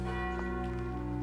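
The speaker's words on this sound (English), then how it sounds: "It's the passing bell." A village church's passing bell tolls, a sustained, ringing tone that hangs steadily in the air without pause.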